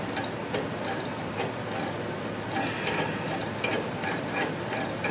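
A ratchet clicks continuously and steadily at close range while working oiled, rusty bolts loose on a go kart being torn down.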